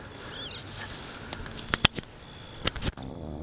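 Small rustling patter and faint squeaks close by, a mouse scurrying through debris around an abandoned backhoe, with a few sharp clicks and knocks.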